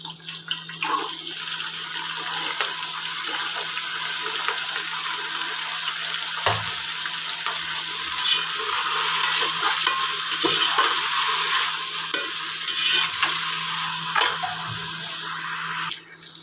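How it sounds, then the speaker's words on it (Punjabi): Onions and potatoes sizzle steadily in a pan for curry pakora, with a constant bright frying hiss and occasional scraping knocks of a spoon stirring, close and without speech. "ਹੁਣ ਆਪਾਂ ਪਾਉਣ ਲੱਗੇ ਗੰਡਾ ਤੇ ਆਲੂ"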